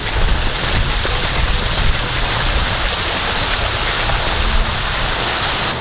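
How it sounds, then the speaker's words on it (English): Water pours down a backyard waterfall after being switched on, a steady, loud broadband rush and splash that holds evenly throughout with no voices over it. "Mom, turn on the water."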